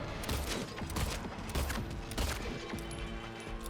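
Rapid gunfire crackles through a Silent Hill video game boss fight, a dense run of quiet, closely spaced shots layered over game music and effects.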